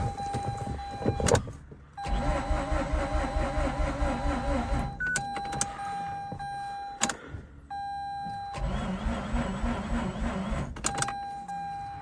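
Mazda RX8 rotary engine cranked repeatedly by its starter on a 12-volt jump box, three loud sustained whirring bursts of a few seconds each, separated by brief pauses and chimes, no talk.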